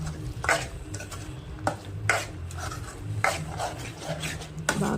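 Roasted cashews are stirred into a kaju masala gravy in a pan, giving repeated scraping and rubbing strokes with a soft background sizzle, fairly close and continuous.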